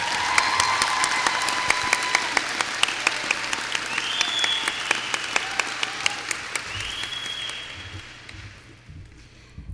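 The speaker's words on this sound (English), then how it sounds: "so I'd like to give him a round of applause." An audience at the 2021 Green Bay West High School graduation claps, a broad round of applause with distinct sharp claps standing out nearby, fading gradually toward the end.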